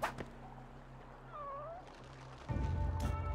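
A cat meows in a video game, a short rising-falling call heard between other game sounds, followed by louder noise near the end.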